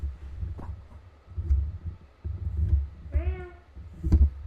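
A house cat named Pumpkin gives a single clear meow near the end, preceded by soft rustling and handling noises close by.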